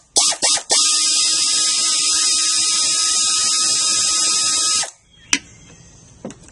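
A 1/4-inch drive ratchet with a 10mm deep well socket works engine cover bolts loose on a Mazda6 3.0L: a few short buzzing bursts, then one loud sustained whirring run of about four seconds, and a couple of faint clicks after it stops.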